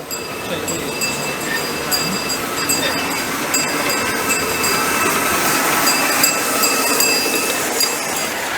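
Miniature steam locomotive on a ground-level club track for 5 inch and 7.25 inch gauge engines, running continuously with metallic clinks and rattling wheels over the rails, loud and close, with a constant hiss beneath.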